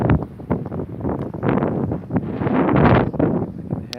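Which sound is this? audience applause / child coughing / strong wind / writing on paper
strong wind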